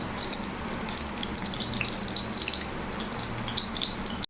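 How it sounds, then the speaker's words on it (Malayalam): Chilli bajji threaded on a skewer frying in hot oil, a soft, steady crackling sizzle with fine bubbling pops running throughout, close and fairly quiet. "ഇത് എണ്ണയിലേക്ക് ഇട്ട് ഇപ്പം തന്നെ റെഡിയാവും കേട്ടോ."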